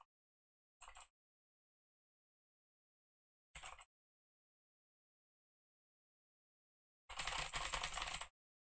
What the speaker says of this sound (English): let's quickly do the keyboard test again